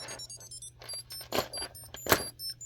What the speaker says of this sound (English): Oh, I love the little beeps.